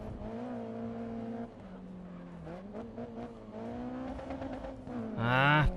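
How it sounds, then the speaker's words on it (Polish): A race car in Grid Autosport revs with its exhaust bouncing off the rev limiter, a sustained droning engine tone with pitch shifts and stuttering pulses, rising to a loud high-revving whine at the end. "Piękny odgłos po prostu idzie z tego wydechu przy odcinaniu."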